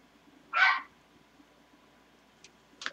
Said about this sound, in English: his little bark is like a screech